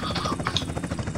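In a video game, a helicopter drones with a continuous whirring rotor thrum and engine rumble, near and fairly loud, heard briefly on its own.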